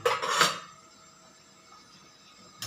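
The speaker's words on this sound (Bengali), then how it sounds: "আমি এখন একটু ঢেকে রাখছি" A lid clatters onto a pot of chicken curry with potatoes, a short bright metallic rattle and ring that fades into a quiet hum, then a second light clink at the end.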